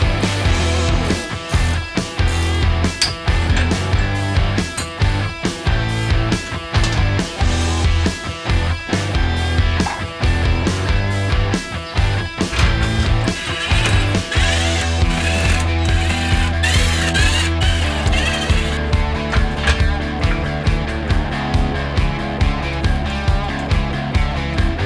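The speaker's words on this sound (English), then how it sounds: "now we're gonna start taking out these bolts around the differential and disconnect the drive shaft" Ratchet wrench backing out the differential bolts on a Suzuki Samurai, with rapid, loud clicking pawl bursts repeating steadily and close up throughout, plus a brief metallic clink near the end.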